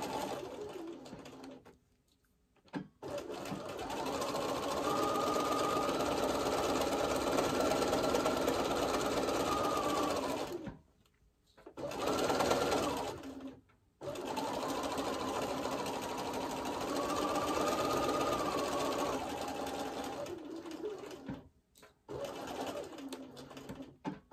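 A sewing machine stitches a quilt seam in Tilda fabric in long, steady whirring runs. The runs are broken by a few brief stops and a short burst, with no voices over the mechanical hum.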